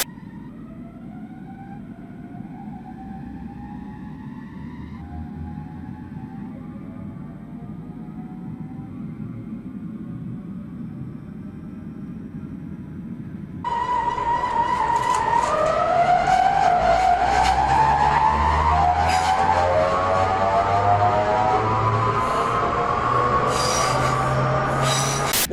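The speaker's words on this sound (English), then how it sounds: "The brush motors, in my opinion, sound the best out of the bunch" Class 465 electric train in Train Simulator 2021, its motors whining in rising harmonic tones that step up in pitch, growing louder and busier partway through with rumbling wheel noise beneath, no talking.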